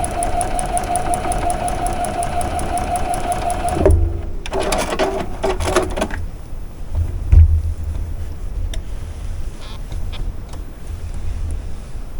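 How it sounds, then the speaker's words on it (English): A sewing machine stitching quilt block seams, a loud rapid mechanical whir running steadily for about four seconds, then short bursts of stitching and handling clatter. "we got 2 more seams to sew you on"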